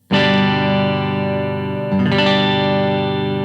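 Two sustained chords on a Sire H7 semi-hollow electric guitar through a tube amp, first pickup selected, the first ringing out before a second is struck, loud and full with warm overdrive.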